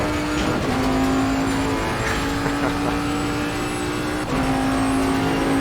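A Bentley Continental GT3 race car in Assetto Corsa Competizione roars continuously at high revs, with sharp drops in pitch as it downshifts and snarls back up.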